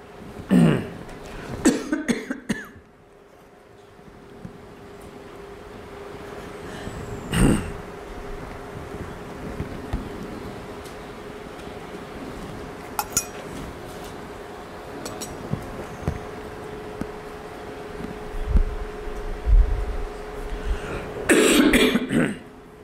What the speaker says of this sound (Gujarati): ઉધરસ ઉધરસ છે ને, આ તો ગળામાં કંઈક ભરાઈ ગયેલું છે એટલા માટે છે.